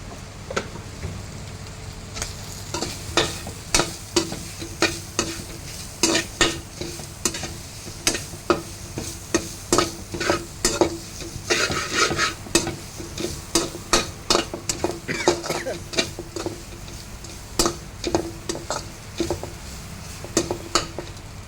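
Grated coconut fries with turmeric and chili powder in a pan while a spoon stirs it steadily, with dense repeated scraping and clanking strokes over a constant sizzle, close up, no talking.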